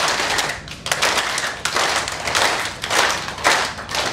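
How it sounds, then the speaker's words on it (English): An audience claps together in a rhythmic pattern, broad bursts of hand claps repeating steadily across the room, loud and close with no talking. "चलिए तो थोड़ा सा पहले उसके लिए हम एक रिदमिक ताली बजाने की कोशिश करते हैं।"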